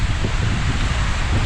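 Steady wind blowing outdoors in Skagway, Alaska, a continuous loud rumbling buffet across the microphone with no pauses and no voices.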